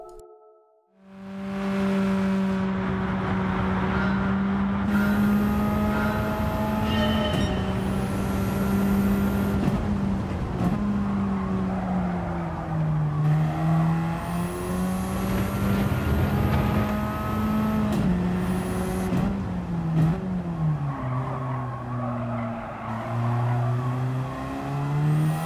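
A Radical race car lapping Brands Hatch in Gran Turismo 7, its engine whining loud and continuous with rising and falling revs through the gear changes, alone with no talk.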